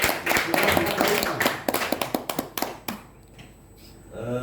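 Audience applause for a speaker at a facilitator dissemination training session, a burst of clapping from a small group that thins to a few spaced claps before fading, then a voice starts speaking.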